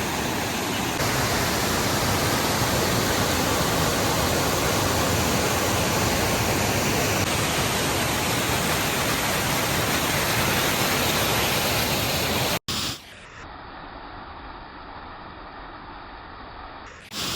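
Goa Rangreng waterfall in Bali roars as a loud, steady broadband wash of falling water, then cuts abruptly to a quieter, muffled rush of water for the last few seconds.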